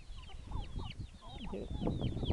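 Chickens and small chicks on a farm cluck and cheep in a busy, close chorus of short calls, with high peeping chirps layered over lower clucks.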